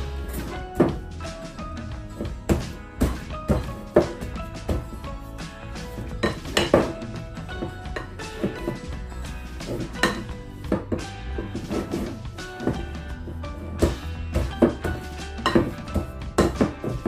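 Pots, pans and utensils clatter and clank in a home kitchen while minced meat is mixed for homemade sausage, with dense, irregular metallic knocks and taps running continuously throughout, close and fairly loud.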